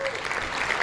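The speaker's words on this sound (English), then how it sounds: "We're going to give you a round of applause, man" A short burst of applause for a podcast guest, brisk steady clapping close by, filling the whole moment with a voice faintly under it.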